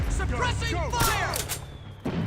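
Suppressing gunfire crackles in a Metal Gear Solid 4 battle, with rapid bursts and heavy booms layered over shouting soldiers, loud and dense for the whole span before a brief drop near the end.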